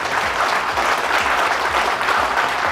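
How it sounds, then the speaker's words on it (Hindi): An audience at a finance and insurance advisors' seminar claps loudly and continuously, a dense, even wash of applause close by with no pauses. "यार जोर से ताली बनाओ"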